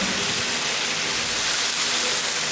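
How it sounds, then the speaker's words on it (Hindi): Water pouring into a hot chicken karahi, a dense, even rushing hiss like steam and splashing, loud and unbroken for a few seconds. "हम इसमें पानी डालेंगे।"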